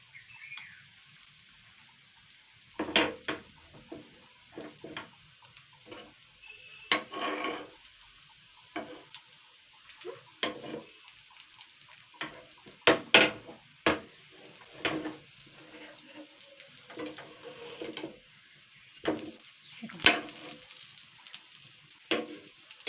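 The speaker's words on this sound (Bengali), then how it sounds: "সুন্দর করে এইভাবে ভেজে নেব একটু ঘুরিয়ে ঘুরিয়ে নিতে হবে" Fish roe fries in a pan and is stirred, producing a quiet background sizzle punctuated by irregular scrapes and knocks of a spatula against the metal.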